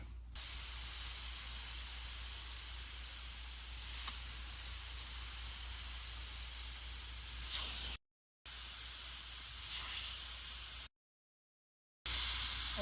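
An airbrush spraying paint with the air cap removed, a steady close airy hiss in long bursts that swell slightly and cut off briefly twice, the flow starting and stopping.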